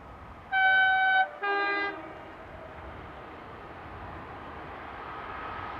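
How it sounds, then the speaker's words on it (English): BB 36010 electric locomotive at the head of overnight train EN 207 from Paris Gare de Lyon to Roma, giving two loud horn blasts, a long toot then a shorter lower one, over a steady rumble of passing rail traffic. "Here we see BB 36010 at the head of train EN 207, the 1914 from Paris Gare de Lyon to Roma."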